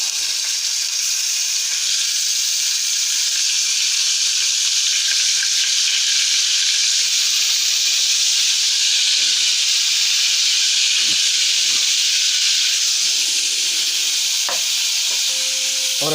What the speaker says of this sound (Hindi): अब हम इसमें डाल लेंगे जो कि हमने बीफ की बाइट्स ली हैं वो।